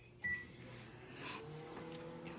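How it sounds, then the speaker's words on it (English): Microwave oven running while cooking potato wedges, a steady low hum with a faint beep near the start, heard up close in a quiet kitchen. "I'll let those potatoes do their business in the microwave"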